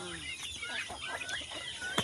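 Bird calls that sound like turkey gobbling and clucking, several quick warbling bursts with a sharper call near the end, no speech.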